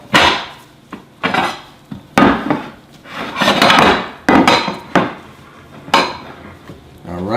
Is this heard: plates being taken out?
yes